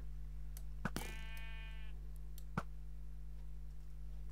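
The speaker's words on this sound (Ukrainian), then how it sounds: "О, до речі, вівця." A sheep in Minecraft lets out a single wavering bleat with a stepped, buzzy tone, close and clear over a steady low game hum, with a few faint clicks around it.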